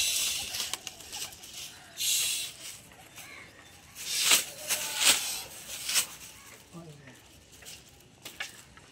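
Giribaz pigeons in a loft cooing in short soft bursts, with sharp scattered clicks and rustles between calls, fairly close.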